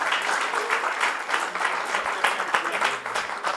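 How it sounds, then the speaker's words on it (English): A conference crowd applauds a keynote speaker, Khaled Almaeena, with steady, moderately loud clapping that holds evenly throughout. "Please give a huge round of applause to the amazing Mr."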